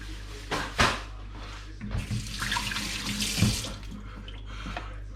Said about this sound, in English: I'm just going to dry my hands, wash my hands and dry them